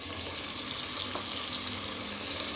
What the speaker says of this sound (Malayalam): ഇനി ഇത് ബാക്കിയുള്ളതും കൂടിയിട്ട് വറുത്ത് പോരാം.